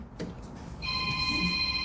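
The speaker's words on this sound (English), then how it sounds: "There go this phone ringing" A phone rings with a steady electronic tone at an auto wiring shop, starting partway through and sounding continuously over a low background hum.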